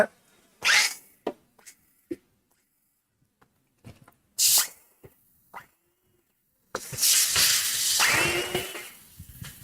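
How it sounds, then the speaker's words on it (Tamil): A battery-operated kitchen chopper cuts onions with a few short, sharp whirring bursts, then a longer continuous motor run near the end, all heard close and without talk. "இந்த சாப்பரில் வந்து இப்போ ஆனியன்ஸ் கட் பண்ணி போட்டிருக்கோம் இது வந்து பேட்டரி ஆப்ரேட்டட்"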